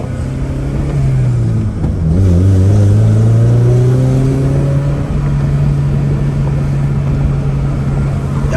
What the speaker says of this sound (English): Y'all hear them high revs?